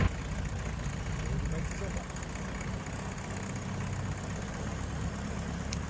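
A de Havilland Chipmunk aircraft engine idling at 1000 RPM for warm-up, a steady low rumbling drone heard from inside the cockpit, with a voice talking over it.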